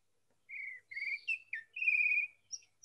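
A grey trembler, a bird with a long downcurved beak, sings in a blackbird-like way: a short run of clear, close whistled phrases, some held and some rising or falling, alone against a quiet background.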